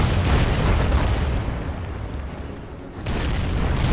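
Cruisers shelling enemy gun positions in the strategy video game Order of Battle, set around Melbourne, give a dense, continuous rumble of booming explosions and artillery fire that dips briefly and then swells again.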